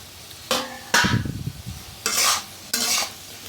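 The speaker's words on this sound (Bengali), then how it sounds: "তবে নাড়াচাড়া করে একটু দেখে দিচ্ছি" Potatoes being stirred in a pan with a utensil, four distinct scraping strokes with soft sizzling, close and clear, no talking.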